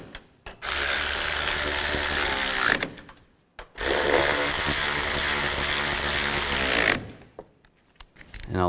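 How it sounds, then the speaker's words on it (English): Power tool tightening the strut bolts on a 2005-2010 Chevy Cobalt during front strut boot replacement, heard as two sustained loud whirring bursts of about two and three seconds, close up, with brief quiet gaps and no talk. "Now we're going to tighten these down."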